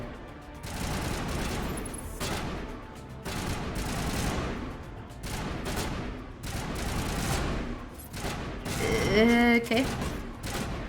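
Weapons fire in a Mass Effect battle as repeated bursts of shots, close and steady, with a speaker talking briefly over the gunfire.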